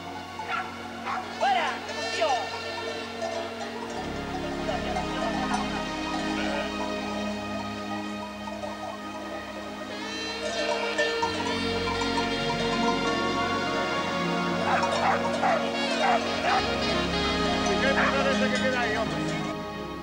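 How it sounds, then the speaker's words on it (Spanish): Sheepdog barking while driving sheep up a mountain path, repeated sharp barks and yips in bursts, fairly near, over shuffling and a shepherd's voice. "presionadas polos ladridos del can e os xuramentos dun dos pastores"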